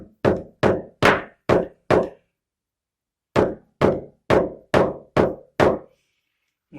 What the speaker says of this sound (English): So I'm going to have to knock that in a little bit more.